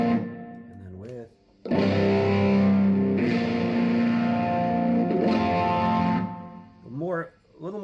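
Electric guitar chords played through a TC Electronic Blood Moon phaser pedal, tone swirling gently as each chord rings out, with brief talk at the start and end.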